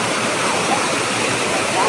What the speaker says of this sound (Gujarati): કેવું સરસ મજાનું ઝરણું છે